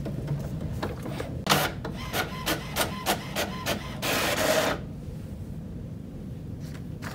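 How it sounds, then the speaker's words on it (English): HP printer realigning after a new HP 564 ink cartridge install, a series of rhythmic mechanical clicks and carriage whirs followed by a longer grinding sweep, fairly close and alone. "After a few minutes, your printer will realign and you're back in business."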